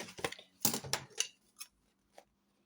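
Scissors snip through card, a few quick crisp cuts close by followed by softer isolated clicks, quiet and alone.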